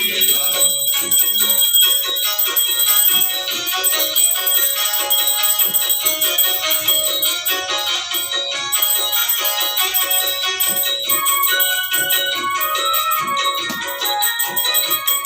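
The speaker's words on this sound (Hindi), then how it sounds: "बिट्टू ने घंटी थोई दे" A bright metallic bell rings continuously in a steady rapid clatter during Ganesh puja worship, loud and close, with faint voices underneath.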